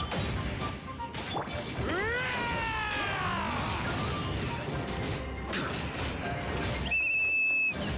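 Whistle signal in the Genshin Impact video game, a rising, sliding tonal call amid busy battle noise, followed later by a short, bright high whistle.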